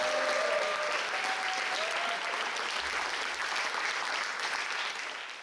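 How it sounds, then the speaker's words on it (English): Loud, sustained applause from an audience at a battle of the bands, dense clapping that holds steady and then begins to taper off at the end. "I think you guys need to give a massive round of applause to Mr. Gladstone."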